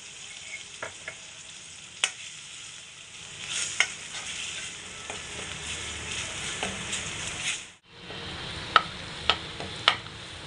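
Masala with turmeric frying for a Konkani egg curry: a soft, continuous sizzle in the pan, punctuated by sharp clinks and scrapes of the stirring spoon and a brief pause near the end, no talking.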